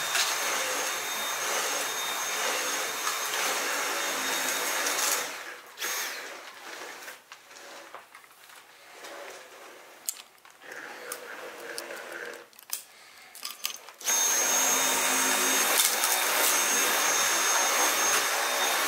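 A Dyson V8 Absolute cordless stick vacuum cleaner runs with a loud, steady high-pitched whine, dipping and fluctuating in the middle as it moves over surfaces, then returning to full strength.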